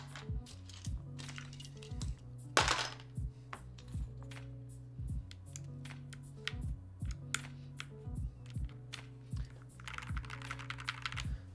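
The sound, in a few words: typing on NK65EE mechanical keyboard with Gateron Ink switches, PBT keycaps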